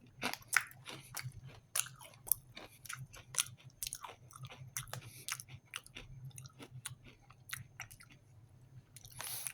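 Hard, crunchy Croatian bread crisps being bitten and chewed up close, with repeated sharp crunches and crackles in an irregular rhythm over about ten seconds, and no talking.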